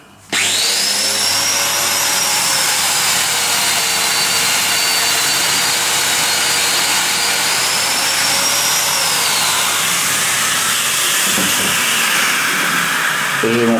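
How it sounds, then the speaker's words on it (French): A Festool-style domino joiner whines loudly as it cuts a mortise into a wooden workbench, a steady high-pitched motor roar running nearly the whole time before winding down near the end. "je mets la domino, on y va. C'est assez bruyant."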